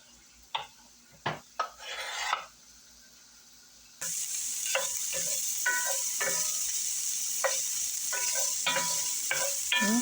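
Sliced kielbasa browning in a pan: a few clinks and scrapes of a utensil against cookware, then a steady hiss of sizzling fat with intermittent stirring scrapes, close and moderately loud.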